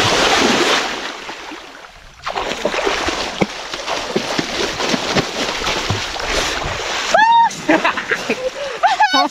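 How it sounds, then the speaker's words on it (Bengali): People bathing in the Jaldhaka river splash the water in bursts of broadband churning, with a short pause early on, close to the microphone, while voices talk and call out over the splashing. "জলঢাকা নদীতে স্নান করতেছি"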